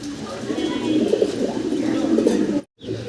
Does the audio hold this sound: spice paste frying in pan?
no